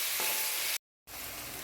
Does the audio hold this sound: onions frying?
yes